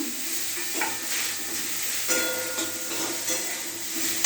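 Pointed gourd (potol) frying in a pan with spices, a steady close sizzle and hiss with a few soft stirring clinks, no talking.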